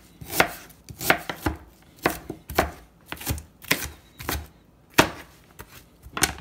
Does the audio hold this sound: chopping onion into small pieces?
yes